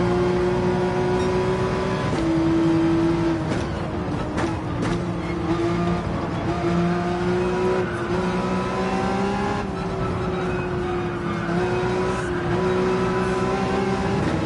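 Racing cars, including a Toyota Supra and a Nissan Skyline, cornering in Gran Turismo 7, loud sustained engine whine with pitch rising and falling through gear changes and throttle lifts across the whole stretch.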